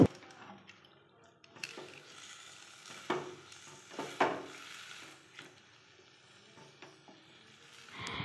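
Jaggery and jujubes being stirred with water in a pan, giving soft intermittent scraping and light sizzling with a few louder clinks of the spoon, quiet and close.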